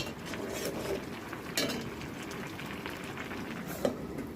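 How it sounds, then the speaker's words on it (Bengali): A spoon stirring okra, teasel gourd and dried shrimp curry in a pot cooked in mustard oil, with quiet scrapes and a few soft clinks against the pot under a low background hiss. "এবার একটু নেড়ে নিব।"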